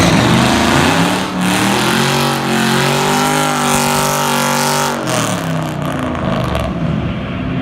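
Drag racing cars, including a nitrous-fed Foxbody Mustang, roar down the track with loud engines revving and accelerating, rising harmonic pitch climbing steadily before a shift, close and sustained without talk.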